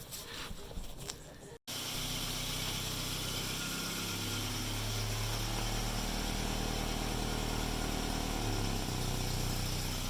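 A Volvo 240 engine with a freshly repaired, clamped exhaust starts up and revs, a loud close droning roar holding steady with rising and falling pitch over about eight seconds.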